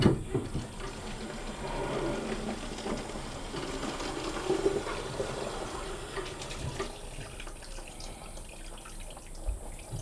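Tap water runs steadily into a bottle being filled at an outdoor tap, a soft continuous splashing and gurgle close by that fades slightly toward the end.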